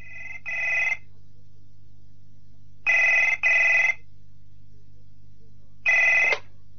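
A telephone bell rings in three short bursts, the first two paired double rings and the last a single ring, loud and clear against a quiet background.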